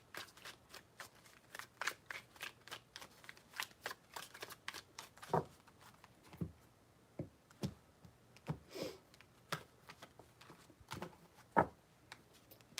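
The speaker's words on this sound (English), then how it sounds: "3 shuffles." Tarot cards are shuffled in a long run of crisp riffling bursts, many short sharp flicks in an irregular rhythm with several louder snaps, close and fairly quiet, with no talking.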